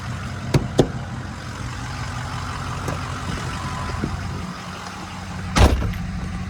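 A steady, low truck engine rumble idles smoothly throughout, with a couple of sharp clicks early on and a brief louder burst near the end.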